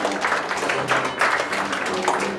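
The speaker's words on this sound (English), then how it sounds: "Let's give them a great big round of applause" An audience at a scout pack magic show applauds, continuous clapping at moderate volume with some voices mixed in.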